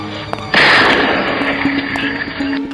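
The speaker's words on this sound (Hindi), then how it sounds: "फिर उसे गोली चलने की आवाज सुनाई दी।" A gunshot sound effect in a Hindi audiobook of The Invisible Man, a sudden loud blast with a sharp onset that rings on for about two seconds before cutting off, with no voice over it.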